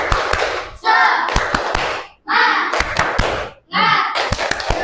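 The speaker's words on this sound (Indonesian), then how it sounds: "Coba tepuk semangat." A classroom of students performs a rhythmic Indonesian 'tepuk semangat' clapping chant, sharp clap patterns in three bursts alternating with loud group chanting voices, fairly close and energetic.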